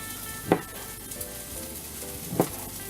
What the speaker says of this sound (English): put the actual meat into the skillet